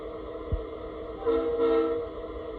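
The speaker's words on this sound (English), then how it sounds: "it just has some pretty standard freight sounds, so I'm sure you all have heard them before from MTH" An MTH RailKing F45 model locomotive plays freight sound effects, with a single soft clunk followed by a brief electronic horn blast over a faint, steady motor hum.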